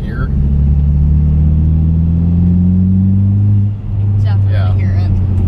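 A 2015 Lancer Evolution MR engine with an AEM cold air intake drones loudly and steadily, its low tone rising slightly as it accelerates, with a brief dip near the end.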